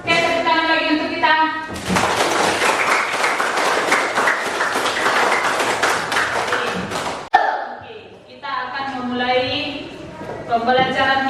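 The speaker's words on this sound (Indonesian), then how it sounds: "tepuk tangan lagi untuk kita" Hands clapping at a Christian lesson session, a burst of rapid clapping that breaks off abruptly, framed by singing or speaking voices before and after.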